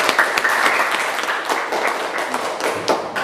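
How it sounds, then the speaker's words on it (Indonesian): Schoolchildren in a classroom clap their hands together, a short burst of brisk, fairly loud clapping with uneven accents. "Tepuk tangan."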